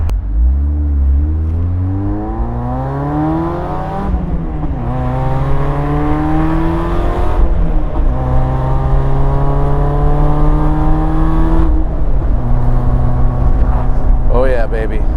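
A supercharged Mazda MX5 on a drive through Lytle Creek, engine repeatedly climbing through the revs in long rising pulls between gear changes, loud and close from inside the car, with someone talking over it.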